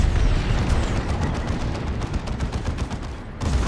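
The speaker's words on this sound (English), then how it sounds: "Grenading their own tank there, which was weird" Grenades explode against a tank in a Warhammer 40,000: Dawn of War 2 battle, a loud, dense barrage of rapid blasts and gunfire that rumbles continuously, briefly dips, then surges again.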